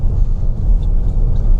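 A car pulls away with a loud, close, steady low engine rumble and road noise throughout, with no voices.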